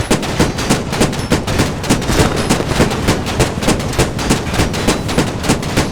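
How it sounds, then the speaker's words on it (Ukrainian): Rapid, loud machine gun bursts in the tactical shooter Squad, a dense rhythmic stream of shots that continues almost without pause and dominates the whole stretch. "Кулемет відпрацьовує по лавці. І зараз буде працювати."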